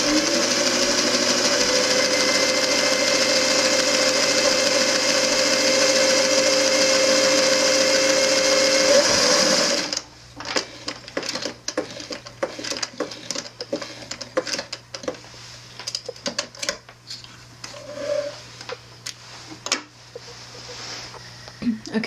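A sewing machine stitching a fabric seam runs as a steady, loud mechanical whir for about ten seconds, then stops, leaving quieter clicks and handling sounds of fabric and parts nearby.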